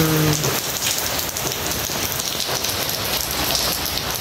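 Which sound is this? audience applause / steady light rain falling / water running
steady light rain falling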